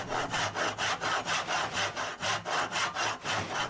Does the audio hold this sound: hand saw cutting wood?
yes